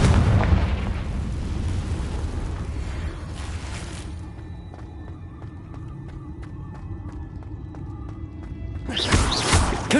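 Confringo blasting spell in Hogwarts Legacy: a loud, close explosive boom at the start, then a rumbling fade and another burst near the end, with no one talking.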